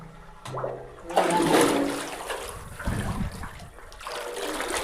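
Dirty water draining out of a concrete water tank during cleaning, a loud rushing gush that swells after a brief quieter start and runs steadily throughout, with splashing and trickling texture and no talk.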